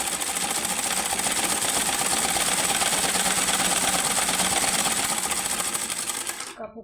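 A sewing machine stitches the neckline of a soft-fabric dress, a fast, even, close mechanical whirr that runs steadily before stopping abruptly at the end.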